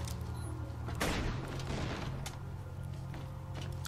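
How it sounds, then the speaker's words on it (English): Gunfire at a gate in the co-op video game Borderlands 2: a cluster of sharp shots and a heavy boom punch through a steady low rumble, followed by a few scattered cracks. "Just shoot the gate now for real."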